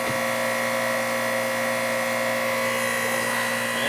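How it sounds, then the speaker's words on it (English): A noisy Bristol compressor in a central air conditioner runs steadily, giving a continuous loud mechanical hum with a buzzing whine throughout. "It's a little noisy because it's a Bristol compressor."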